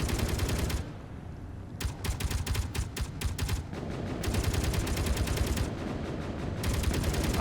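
Rapid automatic gunfire in a flight video game, bursts switching on and off in long sustained volleys with brief gaps, loud and close with no talking.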